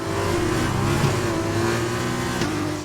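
An F2 single-seater in a racing game drives on a wet track, its engine holding a loud, steady, buzzing note with slight rises in revs, close and continuous with no talk.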